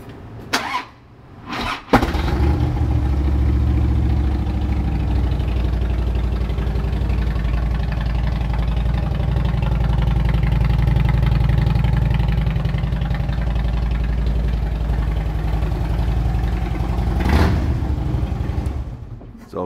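A 2008 Harley-Davidson Electra Glide Classic with a 96 cubic inch engine and 6-speed idles close by, a loud, steady, throbbing rumble that continues unbroken after a brief rustle at the start.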